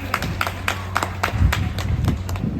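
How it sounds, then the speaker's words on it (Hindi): Wedding guests clapping hands during the seven-vows ceremony, a series of distinct claps in a loose rhythm, fairly close, with low murmur underneath. "भाई सब लोग सुन लियो ना, ताली एक बार खाली बजा दो।"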